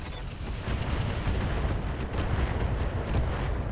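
Mech weapons fire in the RogueTech video game as a dense, continuous barrage of booming shots and rumbling impacts, loud and steady with rapid overlapping bursts throughout.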